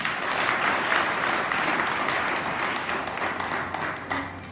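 A crowd at a political gathering in Côte d'Ivoire applauds in a dense, steady roar of clapping that stays loud and even throughout, with no clear voices on top.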